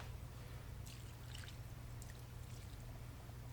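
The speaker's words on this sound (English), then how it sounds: "So we're going to add some water here." Water is poured onto a worm bin bedded with cocoa coir, a soft steady trickling and pattering with a few brighter drips, fairly faint and continuous.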